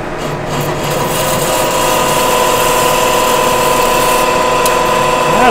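A manual lathe turns a solid steel bar at 180 RPM, taking a deep half-inch cut with a loud, steady grinding whine and a constant hum that holds evenly throughout.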